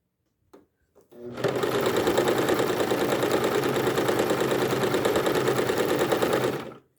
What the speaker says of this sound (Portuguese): E vou passar uma costurinha reta em toda ela.